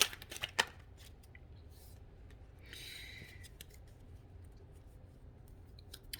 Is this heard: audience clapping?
no